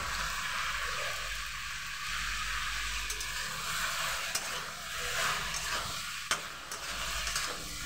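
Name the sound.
frying and stirring masala with cumin and chili powder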